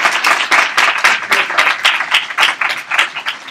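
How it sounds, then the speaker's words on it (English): A warm round of applause from the audience at a genetic genealogy conference, close and loud, with a lively uneven patter of individual claps. "could I ask you to all give a warm round of applause"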